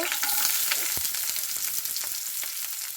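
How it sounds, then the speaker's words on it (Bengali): Whole cardamom, peppercorns, cinnamon sticks and a clove sizzling in hot mustard oil, a bright continuous crackle with a few sharp pops and faint stirring scrapes, close up and without speech. "তেল গরম হয়ে গেছে, এবার দিয়ে দিলাম ফোড়নে গোটা এলাচ, গোলমরিচ আর দারচিনি আর একটা লবঙ্গ।"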